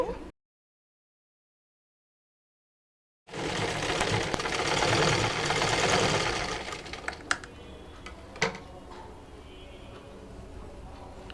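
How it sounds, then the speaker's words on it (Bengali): After a short silence, a sewing machine runs a fast, whirring line of stitches along a blouse seam for a few seconds, then slows to quieter, scattered clicks and taps. "এই সেলাইটা আমি ডাবলভাবে দিয়ে দিচ্ছি"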